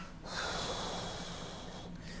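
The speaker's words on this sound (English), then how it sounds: "And practice your embryonic breathing." A single long, close breath drawn in and let out through the nose during tai chi embryonic breathing practice, a soft airy rush that swells quickly, holds, then fades, heard alone in a quiet room.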